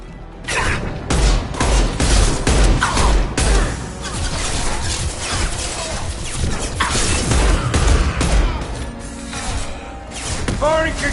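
Dense gunfire and a heavy concussive blast in a Mass Effect 2 firefight: continuous loud bursts, thumps and crashes that barely let up, with voices mixed in.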